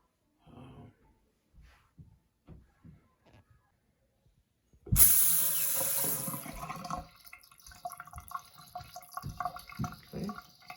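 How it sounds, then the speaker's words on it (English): A household faucet on a plumbing line with whole-house water filters is opened to release pressure: a few quiet handling clicks, then a sudden loud gush of running water that settles into a steadier flow and tapers off. "Then I open a faucet to relieve some of that pressure."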